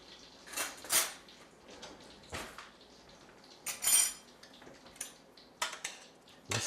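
A spoon scrapes and clinks against a pot while stirring cooked couscous, giving several separate, irregular metallic taps and scrapes close up, with quiet gaps between them and no speech.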